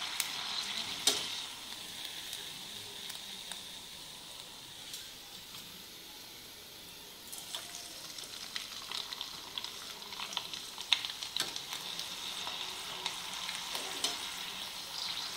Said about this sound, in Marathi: आपण अजून एक 2-3 तळून बघूया.